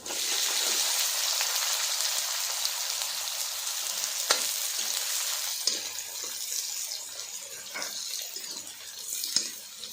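Onions and cumin seeds sizzle steadily in a hot pan of oil while cooking karela sabzi, a continuous bright frying hiss with a few sharp pops and stirring scrapes, close and fairly even throughout.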